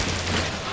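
A quick burst of weapon fire in a sci-fi exploration game, dense rapid crackling shots packed into under a second, loud and close.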